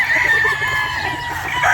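Farm chickens cluck and a rooster crows nearby, loud and busy over a low background hum, with several overlapping calls.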